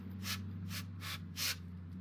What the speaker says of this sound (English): I'm just spraying it down.